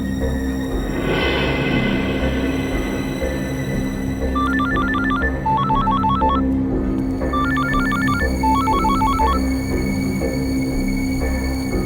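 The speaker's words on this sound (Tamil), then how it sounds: "கௌரவ் ஏன் ஃபோன் எடுக்க மாட்டேங்கிறான்?" A telephone rings in a CID crime drama scene. Two electronic ring bursts repeat in pairs, fairly clear over a steady background hum, and no one answers.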